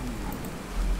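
Rain falling in the video game Fallout 4 (Far Harbor), a steady wash of soft patter with a low rumble swelling near the end.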